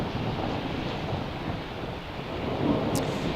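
Thunder over downtown Salt Lake City rolls as a continuous broad, low rumble mixed with rain and wind noise, filling the scene evenly for a few seconds without any speech.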